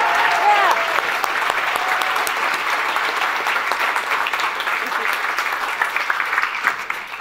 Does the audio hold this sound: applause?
yes